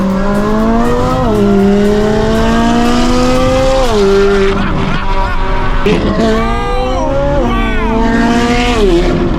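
A Lamborghini and a Ferrari roaring past on a highway, engines revving and shifting through gears, loud and close, with a voice talking over them.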